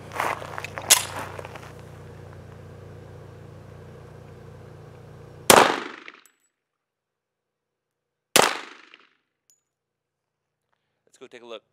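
A .45 ACP pistol fires two loud, sharp shots several seconds apart at an outdoor range, comparing standard and multiple impact rounds, each with a brief echoing tail, preceded by a steady hum and muffled talk.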